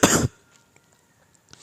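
A single sharp, close cough, then near-silence with faint background ticks.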